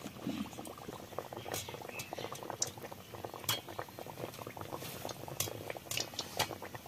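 A raw-potato mughlai paratha bubbles in hot oil in a wok over gentle heat, a faint continuous crackle and patter of small oil bubbles with light scattered pops, quiet and close, no one talking.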